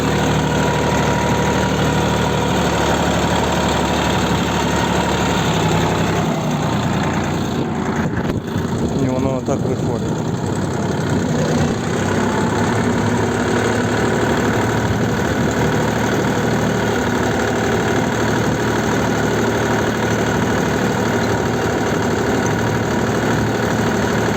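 A homemade inter-row cultivator's engine runs in low gear on a field, a steady loud chugging drone with a brief shift in pitch partway through, and someone talks over it.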